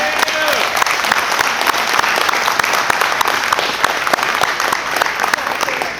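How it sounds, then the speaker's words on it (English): Wedding guests burst into loud, dense applause during the toasts, a full crowd clapping steadily and close by throughout, with a voice also audible in the mix. "I'd love for all of you to give yourselves a round of applause"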